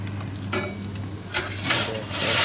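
A pepperoni pizza on recycled dough cooking, the pepperoni curling into little oil cups as it sizzles and crackles steadily and close, with occasional brief stirring or scraping noises.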